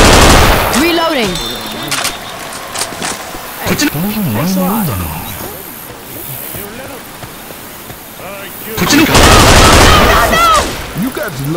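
Rapid automatic gunfire from the zombie shooter game Left 4 Dead 2, loud bursts at the start and again near the end with steadier shooting between, with voices talking over it.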